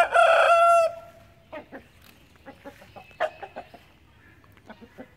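A rooster lets out one loud, close crow at the start, then chickens cluck in short, scattered bursts around a poultry house, with some quieter calls in between.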